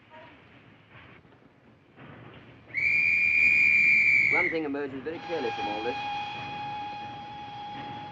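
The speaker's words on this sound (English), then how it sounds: "The train!" A steam-era train whistle blows loud and steady for a couple of seconds, then the train rolls in with rattling, whinnying-like squeals and a sustained tone, all amid a noisy scene with someone speaking over it.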